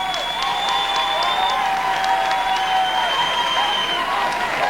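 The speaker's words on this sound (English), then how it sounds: "Please give a big hand for all of them." An audience applauds pageant delegates with a steady, dense wash of clapping and light crowd noise, joined by a sustained tone that holds through the whole stretch.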